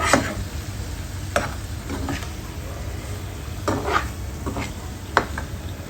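Indian mackerel fries on a tawa with a soft, steady sizzle, broken by a few distinct clinks and scrapes as the fish is flipped over and moved around.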